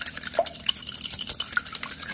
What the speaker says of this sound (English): I have my whisk and I'm going to whisk them up.